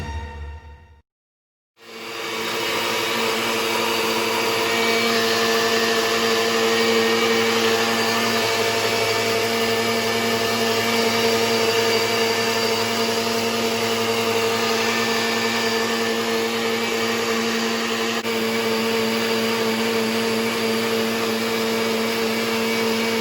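A Nutribullet blender whirs steadily, blending strawberries, blueberries, raspberries and apple into a smoothie. It is a loud, close, continuous motor drone that starts after a brief gap and runs unbroken, with no talk.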